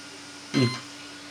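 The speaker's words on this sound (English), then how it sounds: "You've got to wait for the beep to happen." A single short electronic beep from a Rlaarlo XTS rally RC car powering on rings out clearly against a quiet background, lasting a fraction of a second.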